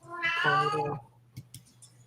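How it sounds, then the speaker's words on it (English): A house cat meows once, loud and drawn out, close by, followed by a few faint bumps and a soft hum in an otherwise quiet indoor room. "Oh, that's a cat."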